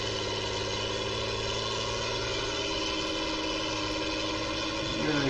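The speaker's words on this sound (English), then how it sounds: "I think it's a great little tractor." A Ford TW35 tractor engine idles steadily up close, a continuous low rumble with mechanical vibration and a slight rise in loudness at the very end.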